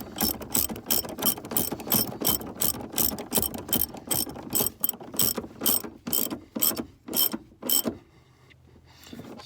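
Ratchet wrench with an extension clicking rapidly and evenly while tightening, a long close run of sharp mechanical clicks that slows and then stops, with faint background hum afterward.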